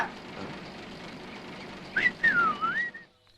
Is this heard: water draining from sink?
no